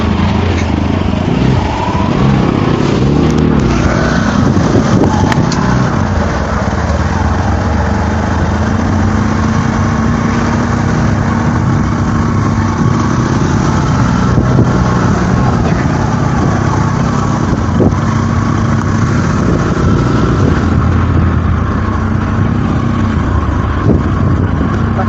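Motorcycle engine running steadily on an unknown route trip with friends, a continuous loud drone with wind rumble throughout and no talk.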